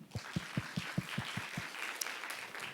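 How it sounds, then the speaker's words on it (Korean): Church congregation clapping in unison at a Korean Sunday afternoon worship service: about eight steady, evenly spaced claps that then fade into a looser, softer patter of scattered clapping. "박수하겠습니다"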